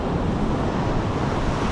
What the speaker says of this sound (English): But the waves are down